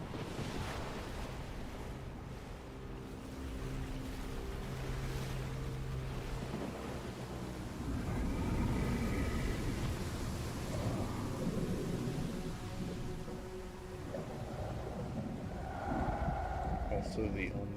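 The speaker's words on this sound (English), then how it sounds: "A storm is approaching." Video game storm ambience in Genshin Impact: heavy waves surge and low thunder rumbles continuously, close and loud, with a voice speaking over parts of it.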